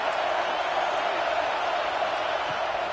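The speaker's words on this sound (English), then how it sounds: "how nice is it to have the home crowd going absolutely bananas?" A home stadium crowd at a college football game, Texas A&M against Michigan, roars in a steady, broad wash of cheering that holds at the same level throughout.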